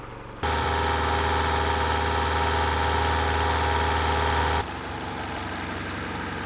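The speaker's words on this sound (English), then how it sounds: "So pretty much we've got to get the engine hot." A diesel engine swapped into a Nissan Patrol idles loud and close with a steady low rumble, then drops to a slightly quieter, even idle for the last couple of seconds.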